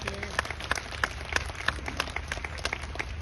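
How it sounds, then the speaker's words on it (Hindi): Audience applause breaking out at a business management event, steady clapping from a crowd with scattered louder claps, fairly close and continuous throughout. "ऐसे शानदार अनुभवी मैनेजमेंट के लिए जोरदार तालियां हो सकती क्या एक बार?"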